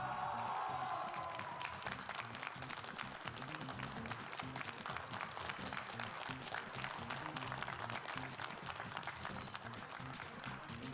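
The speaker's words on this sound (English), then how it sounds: "Let's have a huge round of applause for our finalists" A studio audience breaks into sustained applause for the finalists of a Brawl Stars esports match, dense steady clapping with light crowd noise running unbroken throughout.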